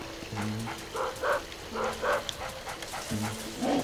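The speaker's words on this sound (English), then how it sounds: "Shut up that mangy mutt!" A dog barks and growls in the haunted graveyard of the Luigi's Mansion video game, repeated bursts over a steady low game-music bed, fairly loud and close.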